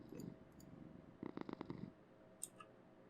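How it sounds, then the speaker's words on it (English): A video game cat purrs in a short burst of rhythmic, pulsing rumbles near the middle, quiet and close, with faint soft ambient noise around it and a brief high chirp afterward. "It's much quieter when he just purrs."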